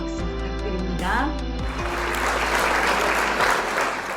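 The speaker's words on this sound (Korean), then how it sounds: "큰 환영의 박수 부탁드립니다" At a business seminar, a crowd greets a speaker with warm applause. A short musical phrase rings out at first, then dense, sustained clapping swells and fills the room.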